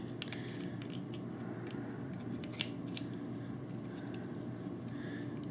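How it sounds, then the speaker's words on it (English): Small plastic clicks and snaps as a part of a custom Revenge of the Fallen Devastator transformer toy is pushed into place, a few sharp close ticks over quiet background hum. "Okay, so I got it to click on that."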